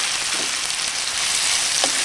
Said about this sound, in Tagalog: So ngayon, lalagay na po natin itong ating squid or pusit.